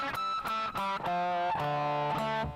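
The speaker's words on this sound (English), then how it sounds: "the next one, which is kind of the same but a bit louder with more distortion and a bit more compression, a bit more delay." Electric guitar played with heavy distortion, compression and delay, ringing sustained chords and notes that change every half second or so, loud and close with trailing echoes.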